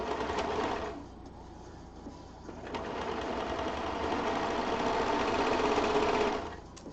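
A serger sewing machine runs in steady stitching bursts, a loud rapid mechanical whir that pauses briefly and then resumes for a long continuous run, close by.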